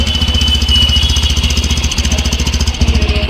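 A Bajaj Platina 110 motorcycle engine runs close by with a steady, rapid thumping beat that dips briefly and picks back up. It holds a low, even note throughout with no voices.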